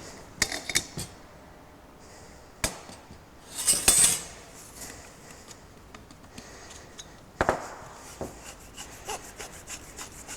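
Saw cutting a plumbing pipe at a marked line, a few scattered rasping strokes and clicks, close but fairly quiet, with pauses between bursts.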